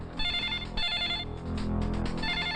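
A telephone rings in an old Bollywood action movie, a loud electronic ringtone pulsing in repeated bursts over a low background score.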